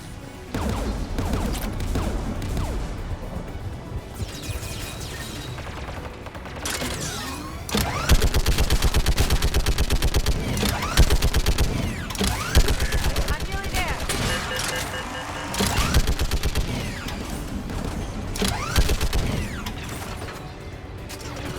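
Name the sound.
gunfire taking out a gun in Mass Effect 3 video game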